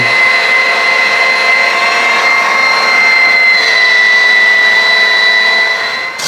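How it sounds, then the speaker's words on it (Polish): An electric grater shreds smoked cheese in a steady, loud, continuous motor whine with a high tonal hum that holds for several seconds, easing off briefly at the end; no one speaks. "Więc włączam maszynkę, no i ścieram po prostu."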